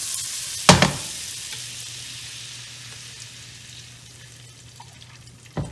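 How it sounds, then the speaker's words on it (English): Heavy cream hits a hot pan of browning garlic with a sharp splash and burst of sizzle, then settles into a quiet steady simmering hiss, close up. "So we're gonna add the heavy cream now. Let that garlic get a little bit brown."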